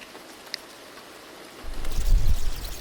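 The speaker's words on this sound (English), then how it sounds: "there's some rain for sure. There's definitely some rain." Rain falls in a horror video game, a soft steady patter that swells into a louder, rumbling downpour toward the end.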